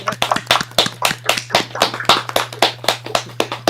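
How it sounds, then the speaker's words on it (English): A small audience claps for the Lehner String Quartet after a performance, the loud, close claps falling in an even, steady rhythm with a low hum running underneath and no voices. "Let's give a round of applause to the quartet."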